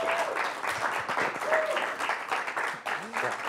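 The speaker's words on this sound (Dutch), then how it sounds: "Dames en heren, mag ik een applaus voor burgemeester Jan van Zanen." Studio audience clapping to welcome a mayor onto a cooking show, a warm burst of applause with voices speaking over it throughout.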